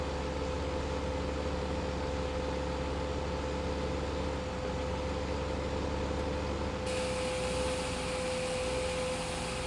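A tractor engine in Farming Simulator 15 drones steadily, a constant mechanical hum with a sustained tonal whine over broadband rumble. A higher hiss layer joins near the end.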